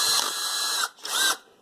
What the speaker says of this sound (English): So I'm going to drill some holes in here